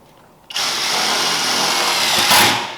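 A cordless drill whines steadily and close by as it drives a self-tapping screw into a treestand chair frame, starting abruptly and rising briefly near the end.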